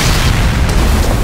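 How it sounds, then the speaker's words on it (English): Missile explosions in the action game Nier: Automata: a dense, loud rumbling boom that fills the whole moment, deep and sustained without a break. "Firing missiles."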